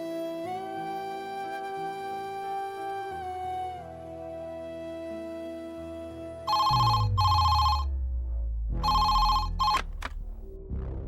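A telephone rings in a tonal electronic pattern as a call is placed, first a sustained melodic tone, then loud repeated ring bursts with brief gaps, heard alone without voices.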